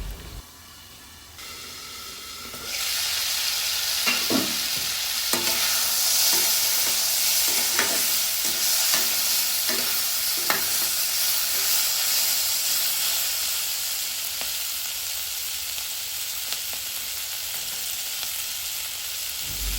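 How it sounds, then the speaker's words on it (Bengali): Vegetables, including flat beans and potatoes, stirred and sautéed in a pan for a village-style Bangladeshi small-fish curry: a steady loud sizzle and hiss with repeated scraping stir strokes, starting after a short quieter lead-in. "নেড়ে চেড়ে এই সবজিগুলো আমরা বেশ কিছুক্ষণ কষিয়ে নেব এবং ঢেকে ঢেকে কষিয়ে নেব"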